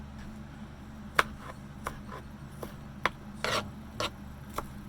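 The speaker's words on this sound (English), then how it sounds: "I like to cut my onions real tiny when I'm putting it into Mexican food." A knife finely chopping onions on a board for Mexican food, giving about eight crisp, irregular taps and short scraping cuts, close by and fairly quiet, with no talking.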